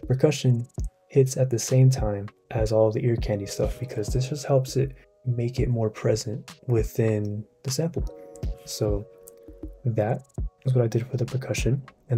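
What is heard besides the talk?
No everyday noises stand out.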